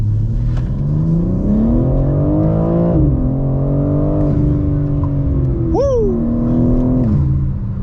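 A 2022 BMW M4 Competition pulls away and accelerates on a hilly road. Its engine note climbs through the gears in a loud, close, rising drone inside the cabin, with a brief squeal near the end.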